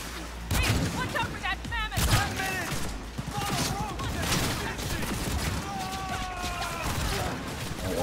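Gunfire in the video game Cyberpunk 2077: a dense, continuous firefight of rapid overlapping shots, with metallic clatter and chirping effects, under game voices talking.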